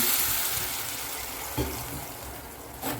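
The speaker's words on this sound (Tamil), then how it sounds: "தண்ணி வந்து கொஞ்சம் முழுகிற அளவு தண்ணி ஊற்றிக்கலாம்" Water is poured into a pan while making coconut burfi, giving a steady splashing gush with a couple of short bumps as the pour shifts, close and alone.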